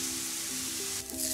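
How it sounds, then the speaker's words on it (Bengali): A steady bright sizzle of onion and garlic frying in oil, with a faint tonal hum and a brief dip near the end, no voices present. "কালারটা চেঞ্জ হওয়া পর্যন্ত আমি ভেজে নিব।"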